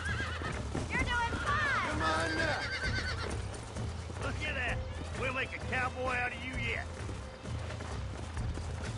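A horse in the Red Dead Redemption game neighs and whinnies several times over steady clip-clopping hooves, with a voice talking over the action.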